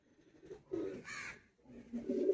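Madrasi pigeons held for sale give a few close, low cooing calls in short bursts, with a brief brighter note in the middle and no talking.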